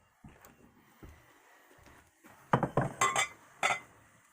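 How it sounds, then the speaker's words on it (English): Antipasto salad being tossed in a bowl, with soft clinks and scrapes that grow into several louder, sharper clatters of utensils against the dish near the end, close and alone. "Mix it all up"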